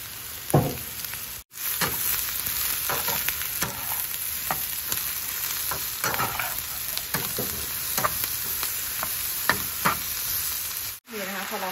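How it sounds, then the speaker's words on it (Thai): Mushrooms and onion stir-fried in a pan for a creamy mushroom sauce, a steady broadband sizzle with repeated scraping and clacking strokes of a spatula throughout, two brief cuts to silence, no talking. "เหลืองได้ที่ดีแล้วเอาเห็ดลงไปผัดเลยจ้า"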